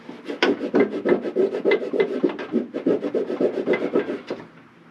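Rag rubbing and scrubbing a dirty vehicle charging-system part, a close, steady series of rhythmic rough swipes that fade out at the end.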